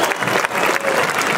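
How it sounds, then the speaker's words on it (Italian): Crowd applause in Fonni, Sardinia, for a cultural association at a public event: a short, dense burst of many people clapping together, loud and continuous. "il primo applauso lo facciamo per l'associazione culturale Urso Sebuttudos"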